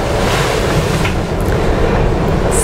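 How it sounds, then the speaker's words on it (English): Loud, rushing gusts from Tropical Cyclone Debbie buffeting the microphone near high tide, mixed with the roar of surf, a constant heavy blast with no talking. "we're still getting some pretty big gusts, as you can hear."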